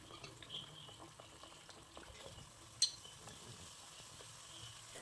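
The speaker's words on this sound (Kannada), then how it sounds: "ಎಣ್ಣೆ ಕಾದಿದೆ. ಈಗ ಒಂದೊಂದೇ ಬಾಳೆಹಣ್ಣಿನ ಪುಡಿ ಬಿಡುವ." Banana batter fritters sizzle and bubble softly in hot frying oil, a faint continuous crackle with one brief sharp clink partway through.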